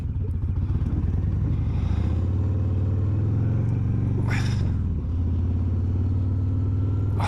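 A Harley-Davidson Heritage Softail Classic 114 motorcycle idles close by, a deep, steady, loping rumble with a slight rise and fall in engine speed partway through and a brief rustle over it.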